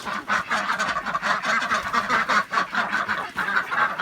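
Ducks quack and honk at feeding time on a chicken farm, a dense, continuous chorus of close, overlapping calls with no talking.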